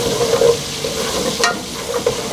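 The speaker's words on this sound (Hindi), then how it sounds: "अब उसी ऑयल में हम डालेंगे 1 टेबल स्पून लहसुन पिसा हुआ। इसमें अदरक भी शामिल हमने करनी है।" Ground garlic and ginger fry in hot oil for a chana gosht dish, giving a steady close sizzle with light stirring scrapes and a few brief clinks, with no talk over it.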